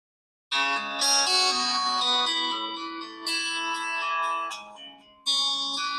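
A Redmi 14C phone plays its ringtone through its speaker: bright bell-like chime tones in repeated phrases, loud and close, with a short dip before a new phrase begins.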